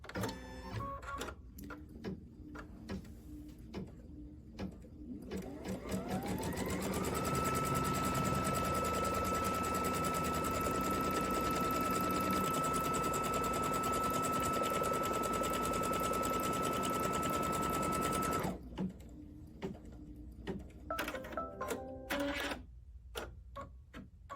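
A Kimberbell embroidery machine stitches a crosshair in white thread, starting with rapid ticking bursts, then rising into a steady loud mechanical whir for about twelve seconds before returning to intermittent clicks.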